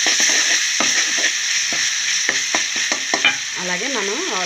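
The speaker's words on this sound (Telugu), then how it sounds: "ఇది పచ్చి వాసన పోయినంత వరకు ఇది ఫ్రై చేసుకుంటాను" Ginger garlic paste fries in a pan for chicken curry, a bright sizzle under quick clicking and scraping from stirring, with a short wavering squeak near the end.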